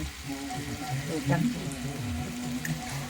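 Curry leaves, cumin and masala sizzle in hot oil in a kadhai, a steady close crackle that swells briefly midway, with a faint voice now and then.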